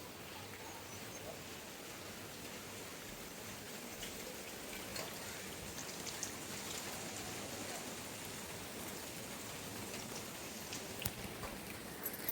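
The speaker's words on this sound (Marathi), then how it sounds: "पुरेसं असं पाऊस लागलेला." Steady rain falls across a village in the Konkan region, giving a continuous broadband hiss with soft scattered drop patter, moderately near and unbroken throughout, with no voices over it.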